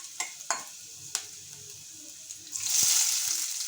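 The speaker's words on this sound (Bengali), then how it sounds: "সেটা আমি দিয়ে দিচ্ছি। পেঁয়াজটা কষাতে কষাতেই আমি কয়েক দানা চিনি দিয়ে দিচ্ছি।" Chopped onions frying in a pan with garlic, a soft crackle with a few spoon taps, then a louder bright hiss swelling in near the end as fresh onions hit the hot oil.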